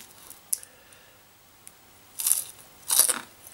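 Two loud, crisp crunches of teeth biting into salted chips, close up, each a short burst about half a second apart after a quieter lead-in with a faint click.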